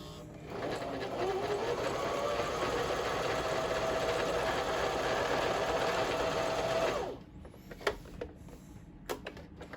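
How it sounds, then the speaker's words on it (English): A sewing machine runs steadily for about seven seconds, stitching a straight line through two layers of quilting fabric, then stops and leaves a few faint clicks and knocks. "I'm just going to stick it under here, and I'm just going to sew a straight line."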